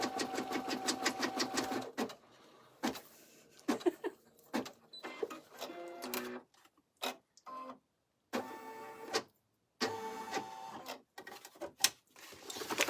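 An embroidery machine stitches an in-the-hoop vertical wallet with rapid mechanical chattering in bursts. Each run of stitching stops and starts again, and short pauses of near silence separate the runs.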